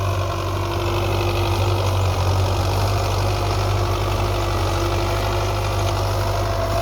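A Belarus tractor engine idles close by with a constant low throbbing drone and a slight knocking rattle, unchanging throughout, with no talk.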